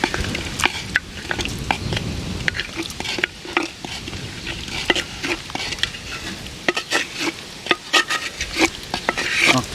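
Handi mutton curry being stirred in a pot, with a spoon scraping and clinking against the vessel over a soft sizzle, close and busy with irregular knocks throughout.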